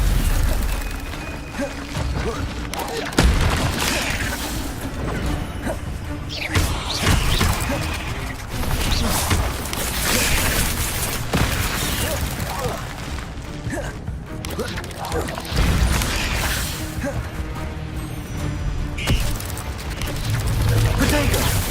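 Spell combat in Hogwarts Legacy against spiders: shield, stunning, levitation and fire spells crash and burst in quick succession, loud and constant over a busy game soundscape.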